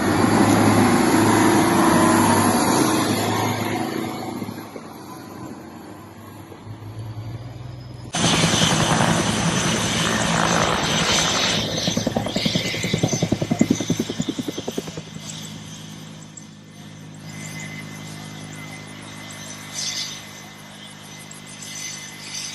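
A firefighting helicopter flies in a remote area, its rotor and engine roar loud and continuous, shifting in character partway through, with faint clattering mixed in.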